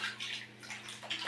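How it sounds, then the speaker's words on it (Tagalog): Water runs steadily from a water pump into containers, a constant close rushing hiss with a faint low hum underneath and no voices. "Ayan ang tubig namin. Ginagamitan pa namin ng water pump."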